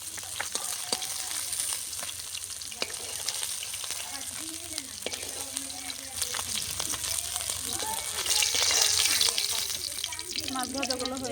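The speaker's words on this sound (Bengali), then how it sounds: "বাকি মাছগুলো এইভাবে ভেজে নেব।" Small hilsa fish fry in hot oil in a pan, giving a loud continuous sizzle and crackle with occasional stirring, while a voice speaks intermittently over it.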